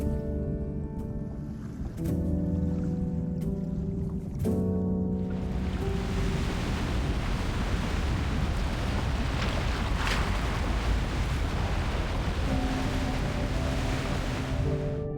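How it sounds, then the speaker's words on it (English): Strong ocean waves surge in the video game Love and Deepspace, a loud, continuous rushing swell that takes over after a few seconds of soft musical tones, with no talking. "It's the waves. They're just too strong."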